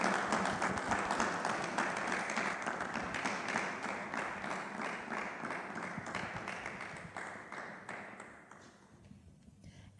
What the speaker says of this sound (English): Let us give a round of applause to these beautiful ladies for coming through.